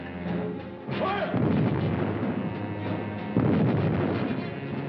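Artillery guns firing in a 1942 wartime documentary film, heavy booms blending into a dense, continuous roar of gunfire with several sharp jumps in intensity, old mono soundtrack with limited high end.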